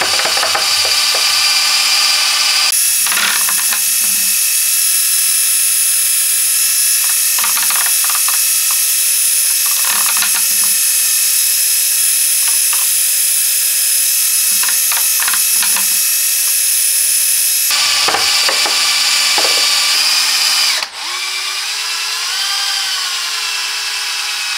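A power mixer stirs thick paint thinned with water, a steady loud mechanical whir with bursts of ratcheting, clattering tool noise, the motor pitch dropping and changing near the end as it slows.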